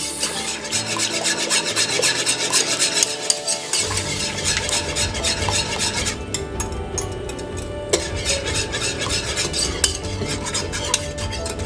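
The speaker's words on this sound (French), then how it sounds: "Vous continuez toujours de fouetter votre sauce." Blanquette de veau sauce being whisked in a pan, a brisk rhythmic scraping and rubbing of the whisk against metal, continuous and close, with faint sizzling underneath.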